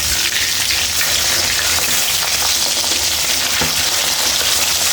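Fish pieces fry in hot oil in a home kitchen while preparing a bean seed curry. A loud, continuous sizzle and crackle holds steady throughout, with occasional faint clinks of stirring.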